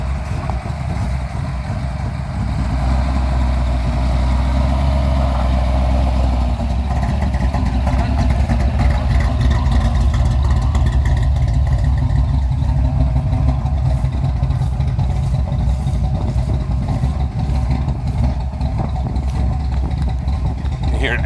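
A 409 V8 car engine on a cold start rumbles steadily at idle, loud and close, with revs swelling and easing, echoing off a large empty chicken barn outdoors.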